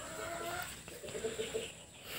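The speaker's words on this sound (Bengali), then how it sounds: "এই একটা মোরগ দেখেন।" A tiger chicken rooster on a free-range farm clucks in a few short soft repeated notes, fairly quiet and close, amid faint outdoor background.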